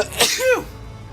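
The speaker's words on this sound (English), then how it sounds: "I hate the mid-sentence sneezes." A single close sneeze bursts out sharply and trails off into a brief voiced tone, followed by quiet background.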